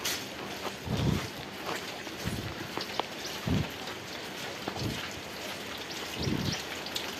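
Steady rain falls on a street, a close, even hiss of drops with a few heavier splashes and thumps scattered through it and no talking.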